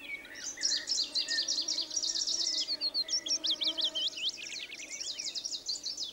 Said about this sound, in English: This willow warbler, singing so vigorously in Scandinavia